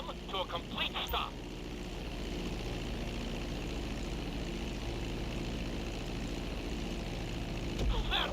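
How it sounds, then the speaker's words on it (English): Propeller airplane taxiing off the runway in a flight simulator game, a steady droning engine hum at moderate level throughout, with brief speech-like chatter near the start. "Now let's get the plane off the runway"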